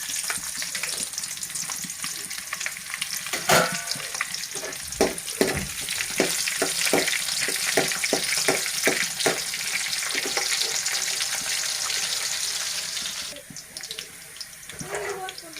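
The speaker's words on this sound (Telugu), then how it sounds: "ఇప్పుడు పోపు వేగాయి అనమాట ఆనియన్స్ వేస్తున్నాం" Steady sizzling of onions frying in hot oil after a spice tempering, with scattered sharp crackles and stirring clatter, continuous and close, easing slightly near the end.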